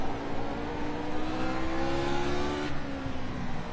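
A Lotus 49 race car howls through a steady, high-revving run at Brands Hatch in a racing video game, its harmonic tone sweeping upward and then dropping sharply near the end as the engine comes off throttle.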